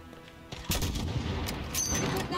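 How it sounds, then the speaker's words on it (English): Several sharp gunshots in the shooter Modern Warfare 2019, coming from a highway, crack out in a brief cluster over a low rumbling background with no talking. "Those shots came from the highway."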